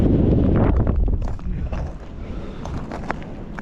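Strong wind gusting over open ice at night during an overnight pike-fishing trip, a loud continuous rumbling buffet that eases after the first second into a steadier, slightly lighter roar with occasional gust peaks.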